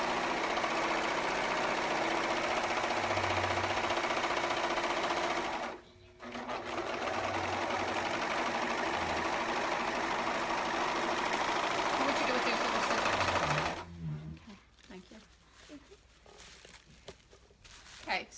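A serger sewing machine runs loudly and continuously while finishing fabric edges for a costume dress, pausing briefly once, then stopping near the end, followed by quieter handling sounds; a person talks during the sewing.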